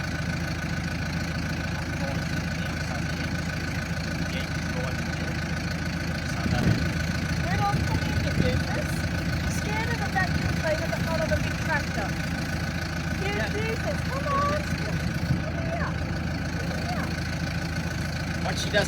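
A tractor engine idles steadily nearby beside a roadside stall and garden beds, a constant low mechanical hum with a faint knocking pulse, while birds chirp in the background throughout.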